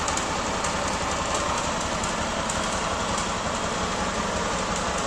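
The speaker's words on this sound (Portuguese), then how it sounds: "algum barulho no motor ela tem, só que eu não sei o que é ainda" An auction Honda Titan motorcycle, left standing in a yard for years, idles with an engine noise, a dense, steady mechanical clatter and hum running without a break at close range.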